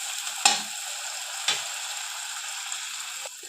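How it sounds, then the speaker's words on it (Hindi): Spices, tomato, onion and garlic fry in a pan for dal paneer, giving a quiet, steady sizzle with a couple of soft clinks from stirring. "टमाटर, प्याज, लहसुन भी भून चुका है।"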